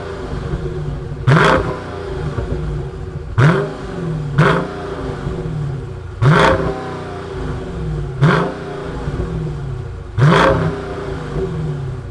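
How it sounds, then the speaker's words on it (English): A Dodge Challenger Scat Pack Widebody's 392 cubic-inch V8 engine revs hard in six loud bursts, each roaring up and settling back to a rumbling idle between them. "let's fire up this muscle car and hear what it sounds like"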